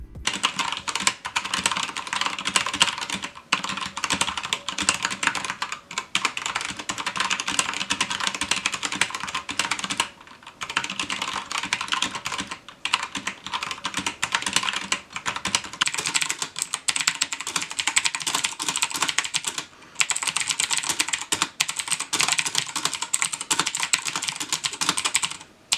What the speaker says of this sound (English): let's get into the typing tests to hear how these switches actually sound